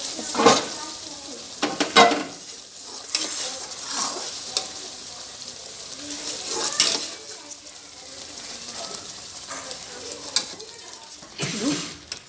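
Besan halwa sugar syrup being stirred and cooked in a pan, a low bubbling simmer broken by several sharp spoon scrapes and clinks against the metal, fairly close, with no speech.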